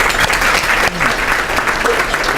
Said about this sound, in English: let's give them a hand for all they do for Walton County